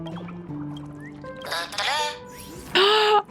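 A cartoonish bird quacks in Honkai: Star Rail, a few short squawking, honking calls over faint game tones, louder and brighter toward the end.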